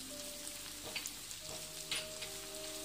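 Soft, steady sizzling of green chilies frying with partly cooked potatoes in a pan for sabudana khichdi, faint and close with a few light clatters and a low hum underneath.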